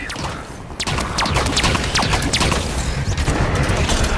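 Gunfire in Halo 5: Guardians, a dense barrage of sharp shots and crashing impacts, loud and continuous after a short lull.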